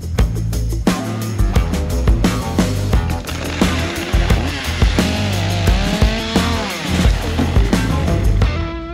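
Chainsaw cutting through a tree during winter removal in snow, the engine loud and close, revving and bogging steadily through the cut for the whole stretch.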